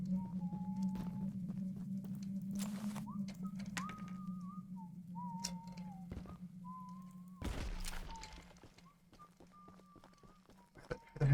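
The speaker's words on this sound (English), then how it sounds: "Who the heck is whistling" Melodic whistling in the LEGO Star Wars video game, a thin wavering tune of short phrases drifting over a steady low hum, interrupted by a few sharp thuds and bursts.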